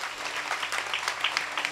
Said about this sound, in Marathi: म्हणून जोरदार टाळी वाजवा बरं एकदा